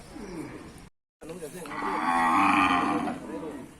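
Cows and their calves at a Thai cattle market in Ban Don Mun, Tha Pha district, giving a drawn-out, loud moo close by, with background crowd noise and a brief gap of silence before it.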